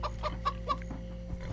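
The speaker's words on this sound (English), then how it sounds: "Clock away, Mr. Cluckington." A chicken in the video game Minecraft Story Mode gives a quick series of four or five clucks in a row, close and clear over a low steady hum, with no talking.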